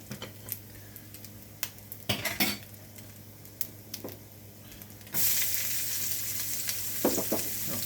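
An egg fries in a hot pan for a sandwich breakfast, giving a steady close sizzle with scattered clinks of utensils and pan, and the frying swells louder toward the end.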